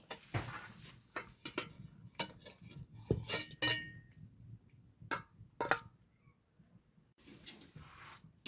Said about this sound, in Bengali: এবার একটা পাত্রে ঢেলে নিচ্ছি